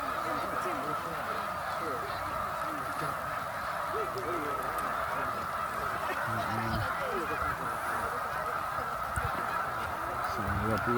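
Thousands of migrating snow geese at Middle Creek Wildlife Refuge keep up a loud, unbroken mass of honking calls, layered and constant throughout, with a faint voice in the background.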